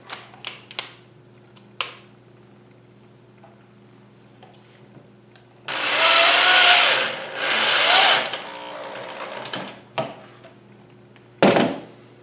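Screws are driven in to mount a Truetone 1 SPOT Pro power supply onto a Pedaltrain pedalboard: two close, sustained whirring, rasping bursts, with scattered small clicks and taps before and after.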